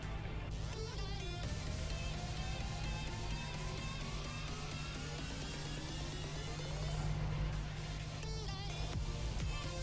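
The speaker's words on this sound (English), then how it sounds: "This truck is a bit louder than the other one." Truck engine in a truck driving simulator game, a steady loud drone running throughout with a low hum and slowly shifting tonal whine, no speech heard.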